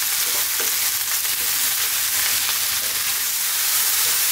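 White mushrooms fry over high heat, a dense steady sizzle with faint scrapes of stirring running through it, close and continuous with no talking.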